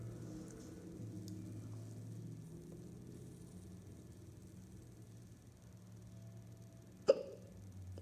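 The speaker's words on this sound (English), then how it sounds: "I have the hiccups." A single sharp hiccup near the end, close and fairly loud, after several seconds of quiet room hum with no other sounds.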